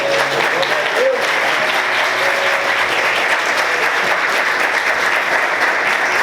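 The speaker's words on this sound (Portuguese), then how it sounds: "Quantos podem aplaudir Jesus bem forte?" A church congregation applauds loudly and continuously, a dense wash of many hands clapping that stays strong throughout, with a voice faintly under it.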